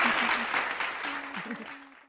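A live audience applauds for guests at a Houseology Live event at the Moxy St. Pete, a burst of clapping that fades out over about two seconds while a voice talks over it.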